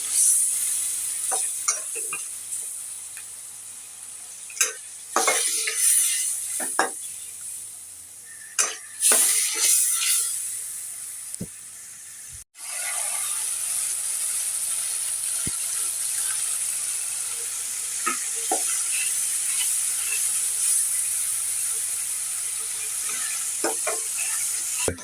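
Spices with turmeric sautéed and stirred in a pan for a pumpkin and prawn dish, with a steady close sizzle broken by repeated scraping stirs and clinks, and no voices.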